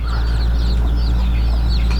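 A flock of laying hens on a small farm clucks continuously and loudly at close range, overlapping calls forming a dense chatter with a steady low hum underneath and no talk.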